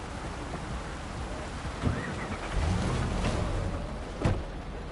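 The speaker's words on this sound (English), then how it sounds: "how moody is this fog that rolled in? And rain, too." Steady rain and wind from a foggy night in the video game Cyberpunk 2077, a continuous hiss with a few soft rumbles and brief swells rising out of it.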